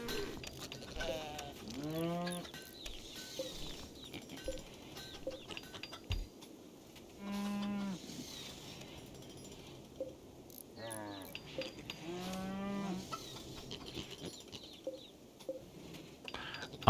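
A cow and a bull in the video game RimWorld give a few drawn-out moos spread across a quiet stretch, with faint bird calls between them.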